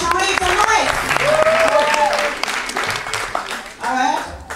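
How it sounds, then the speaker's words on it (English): An audience applauds at a quarter-final competition event. Steady clapping fills the space throughout, with voices talking and calling over it. "A round of applause for Sharita Lewis."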